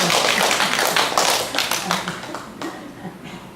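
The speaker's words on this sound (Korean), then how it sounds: "이럴 때는 박수가 나와야 됩니다" A church congregation breaks into clapping, a burst of close claps that thins out and fades over a few seconds, with a voice speaking beneath it.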